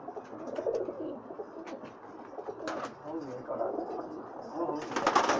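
Pakistani high-flyer pigeons cooing nearby in soft, repeated throaty coos, with scattered wing flutters and small bird noises, as people talk quietly in the background.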